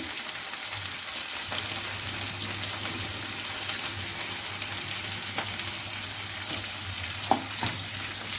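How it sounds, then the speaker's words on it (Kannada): Onions and curry leaves frying in hot oil in a home kitchen pan, a steady close sizzle with crackling pops, a faint low hum underneath and an occasional clink of a utensil. "ಸೊ ಈಗ ಈರುಳ್ಳಿ ಹಾಕ್ಕೊಳ್ತಾ ಇರ್ಬೇಕಾದ್ರೆ ನಿಮಗೆ ಸೌಂಡ್ ಕೇಳಿಸ್ತಾ ಇರ್ಬೋದು."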